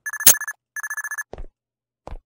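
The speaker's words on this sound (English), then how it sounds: "Is that the phone?" A telephone rings loudly in two bursts of rapid electronic trilling, separated by a short gap, followed by a couple of brief thumps in an otherwise quiet room.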